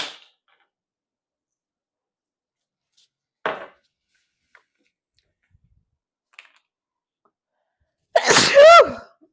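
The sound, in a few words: sneeze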